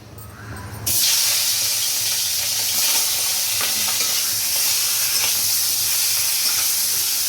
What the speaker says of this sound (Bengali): এবার আমি ইলিশ মাছটা একটু ভেজে নেব